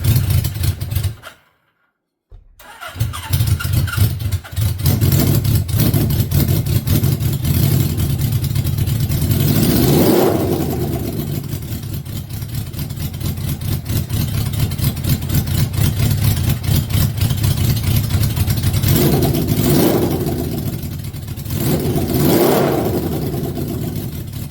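Suzuki GS750 motorcycle engine starting up after a brief silence, then running loud and rough with a steady idle and several rising revs, all close up.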